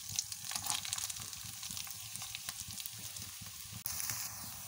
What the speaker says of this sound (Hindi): अभी जो प्याज काटा था वो डाल दें।